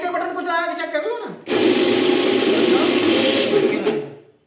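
A repaired juicer mixer's motor starts with a sudden loud whine and runs steadily for several seconds before cutting off, while a person talks before it starts.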